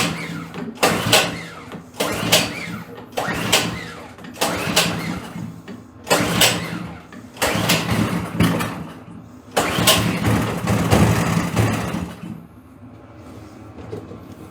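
A snowblower engine is pull-started with the choke closed after three primes, giving repeated rhythmic cranking bursts that catch briefly and sputter, loud and close, with no talk.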